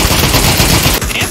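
Sustained automatic gunfire from a Dark RP VR game, loud and continuous with rapid dense bursts throughout, briefly dipping near the end.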